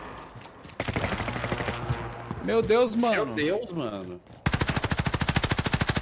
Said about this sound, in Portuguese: Tem tiro de novo.